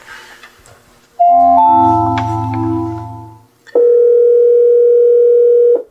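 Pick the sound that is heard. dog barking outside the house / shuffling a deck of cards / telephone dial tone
telephone dial tone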